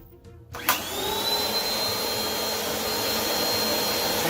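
A Bissell 2252 CleanView swivel upright bagless vacuum kicks on after a brief quiet moment, then runs at medium power with a steady, loud motor whine and airflow hiss that holds level throughout.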